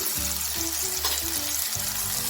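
Whole spices crackling and frying in hot oil for a dal tadka, a loud continuous sizzle close up with no talk.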